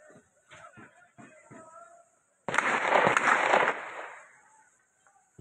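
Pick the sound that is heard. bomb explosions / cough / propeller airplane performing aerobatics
bomb explosions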